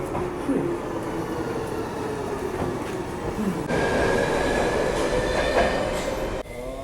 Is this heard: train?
yes